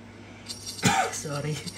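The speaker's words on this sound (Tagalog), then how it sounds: "Sorry guys, inuubo ako." A person coughs once sharply in the middle, briefly and close up, with a quieter throaty follow-up and room noise around it.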